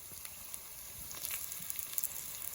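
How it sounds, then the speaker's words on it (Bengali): Raw chicken fries in a pan with onion, cumin, garlic, ginger and chillies for a village-style curry, giving a soft, steady sizzle with faint crackles and pops, quiet and close, with no one talking. "আমি এটাকে লাল করে ভেজে নেব।"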